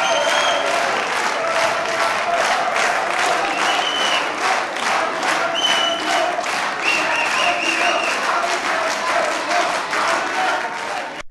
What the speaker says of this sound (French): C'est sous des applaudissements nourris et enthousiastes que Alfred Marie-Jeanne est arrivé